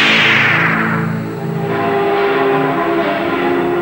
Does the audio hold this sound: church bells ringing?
yes